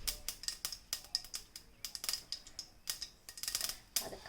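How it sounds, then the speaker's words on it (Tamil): Mustard seeds pop and crackle in hot oil in a pan while a Tamil dry fish thokku is cooked, giving irregular sharp little snaps in quick bursts, fairly faint and close, with no talking. "கடுகு பொரியிற சத்தம் வருதா?"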